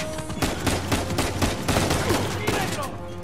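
Rapid bursts of gunfire from the Uncharted 4: A Thief's End video game, several close, sharp shots in irregular succession over continuous game noise, with brief voices partly audible underneath.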